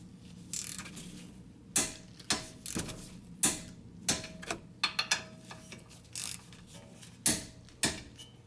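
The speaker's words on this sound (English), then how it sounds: "Now I'm going to torque the caliper bracket bolts." A torque wrench ratchets while tightening caliper bracket bolts to 65 foot-pounds on a Toyota Avalon's front brakes: close, sharp mechanical clicks in irregular bursts and single strokes, with no talking.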